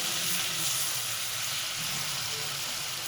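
Chicken pieces frying with salt in a pan give a steady, loud, close sizzle that runs without a break, and no voices come in over the crackle.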